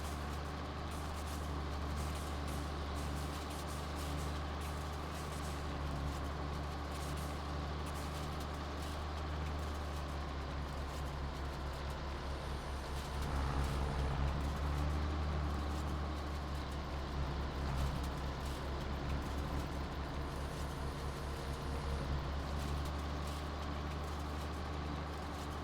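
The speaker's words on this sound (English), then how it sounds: "Just messing about with a baler and picking it up." A baler works in a farming video game on a vintage farm map, giving a steady, loud mechanical drone with a deep low rumble that swells slightly about halfway through. No one speaks.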